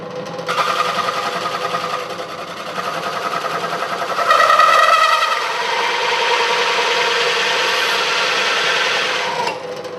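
A hole saw on an arbor cuts a hole in a car build, giving a continuous grinding, rasping whir that swells louder midway and holds steady until it stops near the end.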